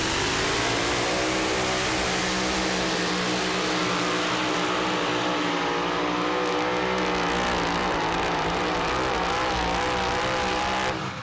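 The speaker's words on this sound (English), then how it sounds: "Lisa Tatum, this time behind the wheel of her father's truck" A modified two-wheel-drive truck at a pro pulling league tractor pull roars at full throttle, its engine loud and sustained for the whole stretch, nearly steady and saturating with no voices heard.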